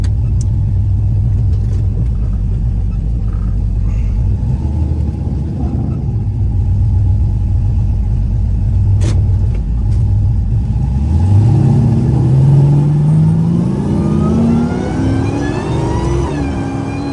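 A Dodge Hellcat muscle car driven on a road at about 80 mph, its engine rumbling loudly from inside the cabin, then rising in a steady pitch climb as it accelerates hard, dominating with no talk.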